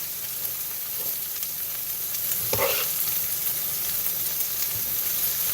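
Butter frying in a hot pan alongside basil and other herbs: a steady bright sizzle with occasional stirring scrapes and a brief louder flare midway, close and continuous, no talking.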